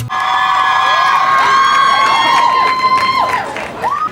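Dozens of fans scream at the Backstreet Boys' Hollywood Walk of Fame star ceremony, a loud, sustained, high-pitched crowd shriek with overlapping voices that waver and rise toward the end.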